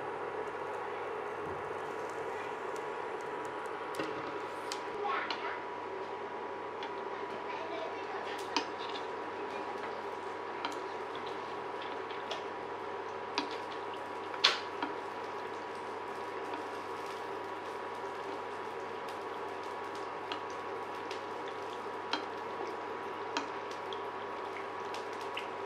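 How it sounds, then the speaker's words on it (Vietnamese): Fish frying in cooking oil in a pan over medium heat for a fish-in-tomato-sauce dish: a steady, low sizzling hiss with faint crackles and occasional sharper pops throughout. "cho cá vào chiên"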